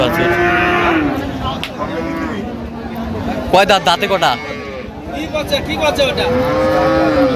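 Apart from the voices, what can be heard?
cows mooing at a cattle market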